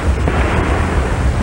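Storm at sea in a 1945 film: a loud, continuous roar of wind and crashing ocean waves fills the whole moment with dense, unbroken noise and no speech.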